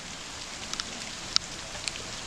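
Rain falls outdoors after a long drought as a soft, steady patter, with a few sharper drips landing nearby.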